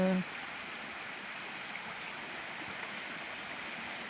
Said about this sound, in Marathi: झरीला तर पाणी आटलं होतं परंतु कालपासून तर पाऊस पडत असल्यामुळं परत याला पाणी वाढलेलं आहे